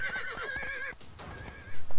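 Horse whinnying in the video game Riders of Icarus as it is being tamed: a bright, wavering neigh followed by snorts and hoof clops, close and clear with no talk.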